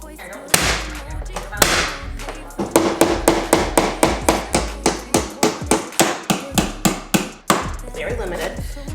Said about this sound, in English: So I also got my hammer, but basically I just stapled a few.